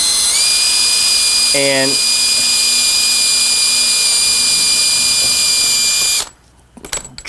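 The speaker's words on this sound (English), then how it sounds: "So what I'm going to do is just come in here with my drill" A power drill drives screws into a damaged arcade cabinet corner, giving a loud steady whine with a brief rising-pitch burst partway through before stopping abruptly; a voice speaks briefly near the start.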